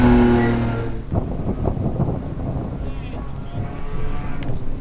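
A BMW rally car on a test day runs laps, its engine note starting high and steady, then dropping into a rough, roaring drive with gravelly mid-distance noise and brief revs.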